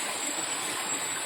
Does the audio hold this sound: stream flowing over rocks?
yes